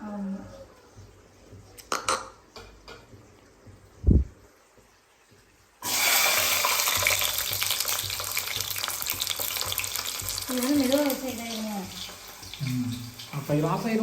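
Tomatoes for tomato pickle sizzle loudly in a hot pan after they are added, a dense continuous crackling hiss, preceded by a few clatters and quiet moments, with people talking over the frying.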